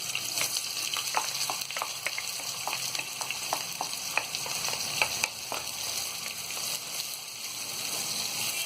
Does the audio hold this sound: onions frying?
yes